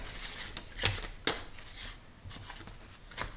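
Several quick riffling bursts of cards being shuffled, close and fairly quiet, with soft papery taps between them.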